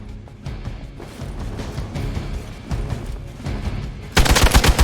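Gunfire in the Marvel Midnight Suns video game: a low rumbling battle bed of shots and impacts, ending in a loud close burst of rapid automatic fire.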